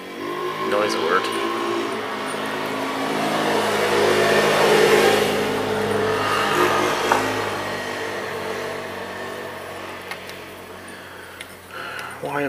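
An ATV drives past along a residential street, its engine droning steadily and swelling to a peak as it passes, then fading, with a few ticks near the end.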